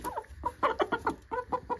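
A broody hen clucking nearby in a rapid series of soft, guttural clucks, steady and fairly quiet, with no talk over it.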